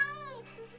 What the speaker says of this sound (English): Got my kitty. Found a black cat.